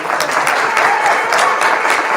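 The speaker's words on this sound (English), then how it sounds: "Can we please have another round of applause for Sid?" Steady applause from an evening poetry reading audience, a dense wash of clapping hands that stays loud and even from start to finish, with no voice on top.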